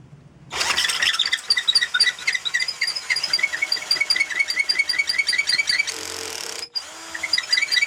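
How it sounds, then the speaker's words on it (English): A power drill whines steadily into wood for several seconds, angling a spigot for a greenwood Sussex chair, with a brief pause and dip near the end before it starts again. "getting a very slight tilt in the angle with a drill"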